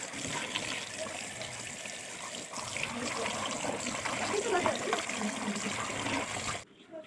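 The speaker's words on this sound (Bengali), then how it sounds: "সর্ষে পাতাগুলোকে ভালো করে ধুয়ে নিতে হবে।" Running water trickles and splashes while mustard leaves are rinsed by hand in a kitchen, a steady close wash of liquid noise that cuts off abruptly near the end, with a voice speaking over it.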